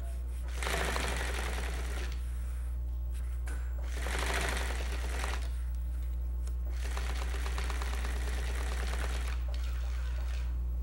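A sewing machine stitches binding onto a bimini top in rapid mechanical bursts, rising and pausing over a constant low hum, close and fairly quiet.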